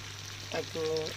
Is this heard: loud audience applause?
no